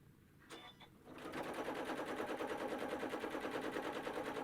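A sewing machine fitted with a walking foot stitches a line using thick thread in the bobbin, starting after a brief pause and then running as a steady, fast, rhythmic mechanical whir close by.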